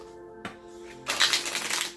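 Tarot cards are shuffled, a brief tap and then a quick riffling flutter of cards lasting about a second, close and fairly quiet, with no speech.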